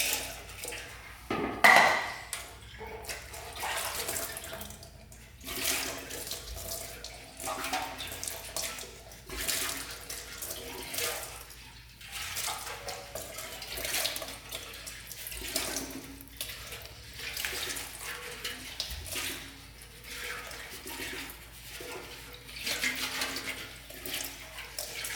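Water draining out through the petcock of a Honda three wheeler, a steady faint trickle and splatter with irregular surges heard close by for a long stretch.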